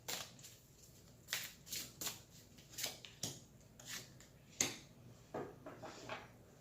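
Tarot cards shuffle softly in a quiet room, a run of short papery riffles and slaps spaced roughly every half second, fairly faint and close, with no voices.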